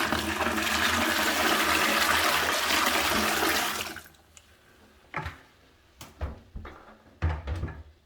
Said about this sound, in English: what I'm going to do is tip a bucket of water down there